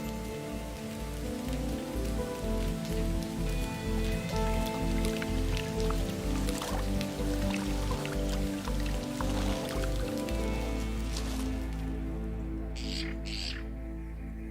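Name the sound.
monsoon rain falling in Saguaro desert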